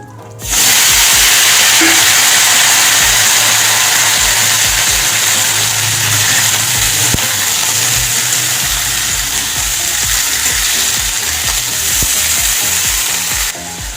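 Cucumbers hit hot oil in a pan and sizzle loudly and steadily, a bright continuous frying hiss with faint stirring, close up and without talk.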